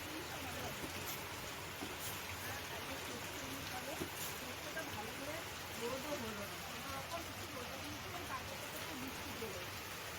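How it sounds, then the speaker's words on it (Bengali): Rain falls steadily into a waterlogged courtyard on a rainy day, a soft, continuous patter that stays faint and even throughout. "আর দেখো বৃষ্টি একদম মানে উঠোন ভর্তি জল টিপ টিপ করে পড়েই যাচ্ছে"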